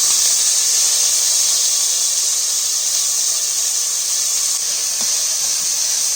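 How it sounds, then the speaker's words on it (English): Curry leaves and finely chopped onions sizzle in hot oil with a loud, continuous frying hiss that stays even throughout, with a faint tap near the end. "The oil is hot now. I'm adding the curry leaves and onions chopped finely."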